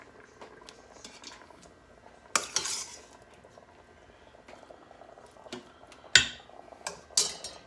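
Meat is dropped back into a pressure cooker pot holding a pork Boston butt dish, giving a few sharp clattering splashes and metallic clinks against quiet background bubbling, with no talk.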